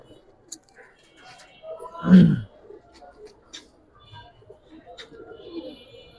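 Khaki pigeons for sale coo in one brief, low, throaty burst amid quiet surroundings, with someone talking nearby.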